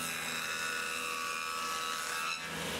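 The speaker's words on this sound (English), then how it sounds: "So I'm using a table saw with a dado blade to make a 5/8 inch wide groove in the edge" A table saw fitted with a dado blade cuts a groove into the edge of a shiplap wood board, a steady whining hum with a slight dip near the end, alone with no talk.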